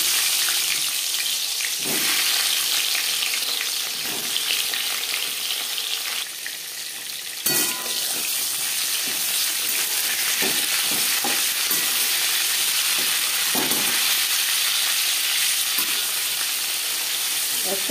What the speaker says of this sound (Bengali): পটল ভেজে নেব।